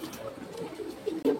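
Pigeons coo softly at a pigeon market in Khulna, a few low murmuring calls close by over faint background bustle.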